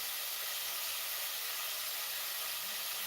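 Onions sizzling in a hot pan, a steady, quiet, broad hiss that runs on evenly with no voices.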